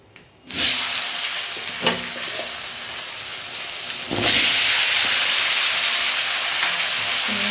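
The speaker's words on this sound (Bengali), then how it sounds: "এবার এই মাছ ভাজার তেলে দুটো কালো জিরে ফোড়নে দিলাম, দিয়ে এবার আলু বেগুনটা দিয়ে দেবো।" Potatoes and eggplant drop into hot fish-frying oil seasoned with nigella seeds, setting off a loud, steady hiss and sizzle that swells at the start and again midway, with a few soft clinks and stirs and no talking.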